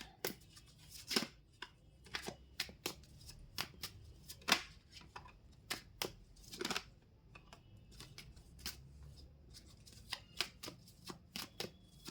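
Tarot cards shuffled by hand in a quiet room, a steady run of crisp riffling and slapping bursts with short pauses between them, close and fairly soft, with no talking.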